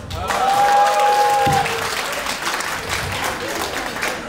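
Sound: audience applause for Gilbert

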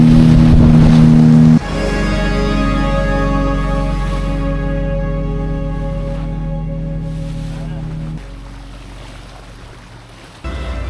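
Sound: boat ride on rough sea

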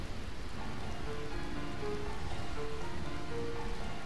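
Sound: rain in Final Fantasy IX video game

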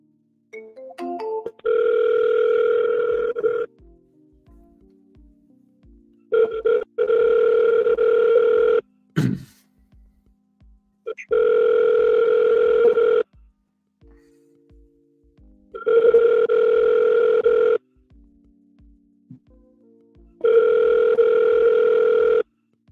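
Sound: telephone ringing on outgoing call

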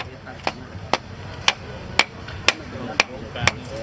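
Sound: hammering a wooden stake at a ceremony

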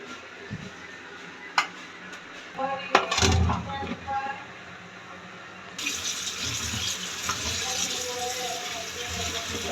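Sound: washing vegetables together under running water

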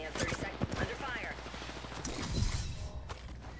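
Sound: gunfire in video game Apex Legends

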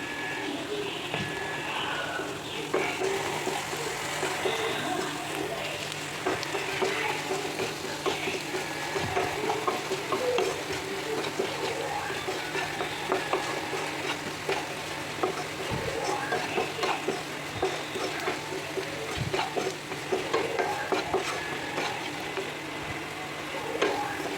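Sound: stirring ingredients frying in a pan for egg curry

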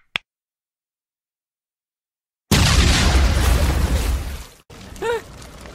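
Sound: grenades exploding via remote detonator

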